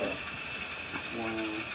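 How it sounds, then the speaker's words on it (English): A Burlington Northern model railroad train runs along a layout loop with a steady, close rumbling hum and faint clicking, and no clear talking. "Here's that anachronistic train now coming down the loop."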